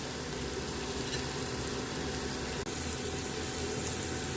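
Marinated prawns sizzling as they fry in oil in a home kitchen, a steady, soft, close crackling hiss throughout with one brief click.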